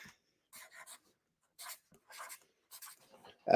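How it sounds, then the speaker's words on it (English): Pen scratching on paper as something is written down, several short close bursts of quick strokes separated by pauses. "So, write it down."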